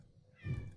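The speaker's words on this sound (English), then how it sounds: "That cat can be loud." A single short cat meow, fairly faint and close, rising and fading in under a second with no talk over it.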